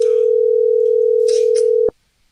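A steady telephone dial tone heard during an attempted phone call, a loud continuous single-pitch hum lasting nearly two seconds before cutting off abruptly, with faint background noise behind it.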